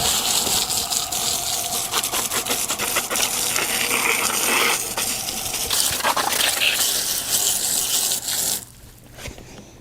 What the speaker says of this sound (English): I'll go ahead and just wash everything off